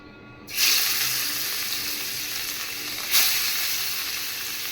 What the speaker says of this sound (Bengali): তো এখন মাছটা ভাজতেছি